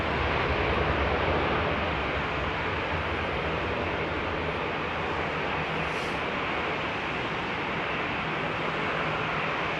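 Jet airliner engines spool up at Heathrow on a foggy day, a loud, steady broadband roar that holds for the whole stretch with no voices, slightly brighter at the start.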